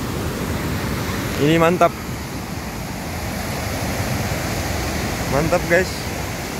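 A river at a sacred riverside tourist spot in Tarutung gives a steady broadband rush of flowing water throughout, with a person speaking briefly over it twice.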